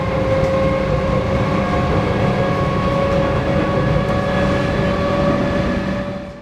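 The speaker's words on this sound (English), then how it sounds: "Also, ComEng's just sound really cool." A Comeng suburban train on the Melbourne network runs with a steady, loud rumble and a sustained mechanical hum, close by and unbroken, tapering off slightly at the end.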